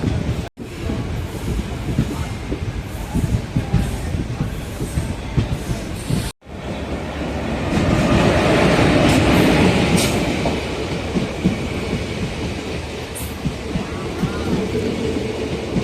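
A Tirunelveli to Tiruchendur passenger train rolls steadily past a station, with a continuous rumbling roar and rhythmic clatter of wheels on rail that swells midway, heard alone without talk.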